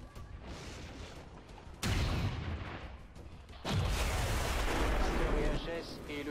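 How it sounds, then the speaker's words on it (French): Two heavy video game explosions in XCOM 2 go off a couple of seconds apart, each a sudden loud boom with a long rumbling tail, over a steady background din. "Ah, c'est parce que ça explose."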